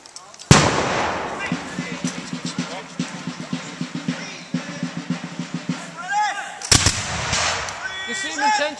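Musket volley at a Revolutionary War reenactment, with a sharp, loud gun blast, a stretch of shouted commands and crowd noise, then a second sharp volley crack near the end.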